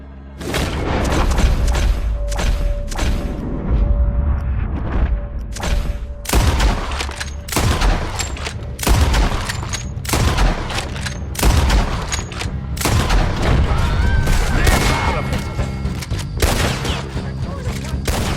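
Rapid gunfire from the video game Red Dead Redemption 2, in a gang camp shootout with a 14-round gun: loud, close shots in dense clusters and volleys, echoing booms repeating across the whole stretch.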